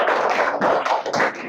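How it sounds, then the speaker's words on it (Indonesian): A class of students in an Indonesian Islamic religious education lesson claps hands together, a close, loud burst of rapid overlapping claps lasting under two seconds. "Tepuk tangan"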